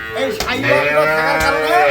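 A Friesian dairy cow at a Dinajpur milk-cow farm gives a loud, close, drawn-out moo that lasts nearly two seconds, with faint voices in the background.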